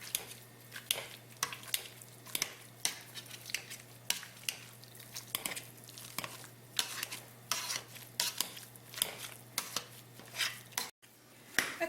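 Boiled, salted potatoes being mashed in a pot, repeated soft thuds and scrapes of the masher against the metal in an irregular rhythm, close and moderately quiet under a steady low hum.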